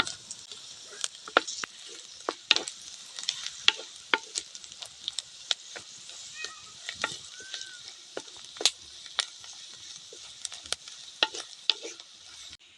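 Chopped ivy gourd is stir-fried in a pan, giving a soft, steady sizzle punctuated by frequent sharp taps and scrapes of a spatula against the metal.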